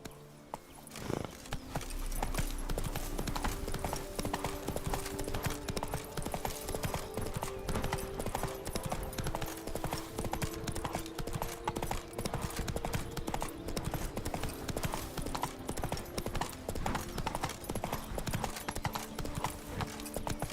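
Roach the horse galloping in The Witcher 3, a steady, continuous clip-clop of hooves running throughout, with a brief whinny near the start and a layer of game ambience underneath.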